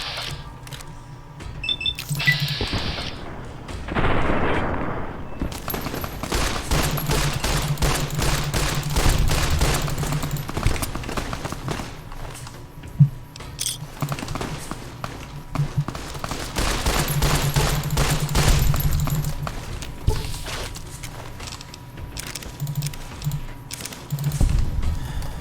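Rapid bursts of gunfire in Fallout: New Vegas crackle loud and close, with sustained automatic fusillades broken by brief pauses and single shots.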